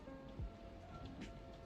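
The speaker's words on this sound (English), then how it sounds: "And it's raining, pouring heavily" Steady, dense wash of heavy rain pouring down, constant and fairly close, with a soft low thump near the start and no talking.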